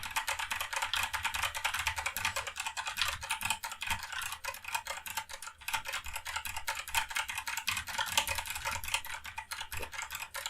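Steady, fast typing on a computer keyboard during a Gimper Simulator 3 gaming session, a dense clatter of crisp keystrokes close to the microphone running continuously with no voices.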